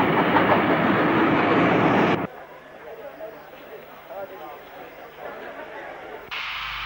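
Steam locomotive and its carriages arriving at Weymouth station in the 1960s, loud rolling rail noise at first that cuts off abruptly into a quieter station ambience with faint movement, then the loud noise returns at the end.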